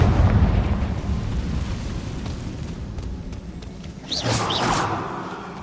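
A Confringo fire spell explodes in Hogwarts Legacy, a loud rumbling blast that decays slowly, followed near the end by a second whooshing burst.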